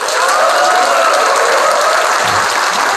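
Dense, sustained applause fills an indoor hall at a political party committee launch ceremony, a broad, continuous clapping from a large audience that stays loud and even throughout, with no voices above it.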